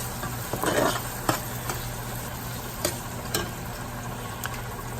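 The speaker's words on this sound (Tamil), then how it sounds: "பூண்டு வந்து கொஞ்சம் லைட்டாக ஸ்லைஸ் அடித்து போட்டுருவோம்" Lightly sliced garlic frying in a pan for a village-style spicy lamb curry: a steady close sizzle with a short stirring rustle near the start and a few sharp utensil clicks scattered through.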